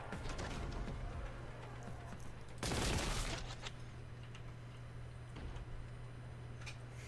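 Single sharp blast of a bolt gun firing in a video game, a short loud burst rising over a steady background hum and faint game noise.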